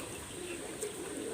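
Pet pigeons, young Teddy and Oman-bloodline birds, cooing softly in a quiet indoor setting, a faint low murmur with no one talking.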